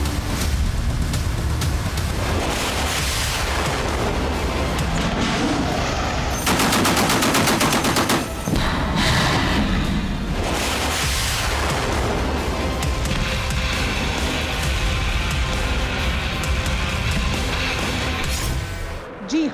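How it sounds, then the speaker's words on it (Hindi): Gunfire and artillery pound along a border, with dense, loud bursts of machine-gun fire and booming blasts continuing almost without a break. "माओ के मुल्क की सरहद पर बरसती बारूदी आग को देख रहे हैं ना"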